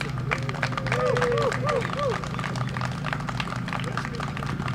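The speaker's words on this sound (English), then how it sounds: "Let's give all of our speakers one last big round of applause" Crowd clapping at an outdoor press conference on cutting carbon pollution in Richmond, a moderate patter of hands mixed with chatter, voices and a passing bird-like chirping, all at middling distance.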